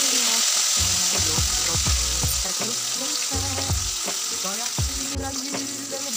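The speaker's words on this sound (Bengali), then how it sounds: "এখন মাছগুলোকে একে একে ছেড়ে দেব তেলের মধ্যে।" Pieces of rui fish fry in hot oil in a wok, giving a continuous close sizzle with a few low knocks and clinks as the pieces settle and are moved.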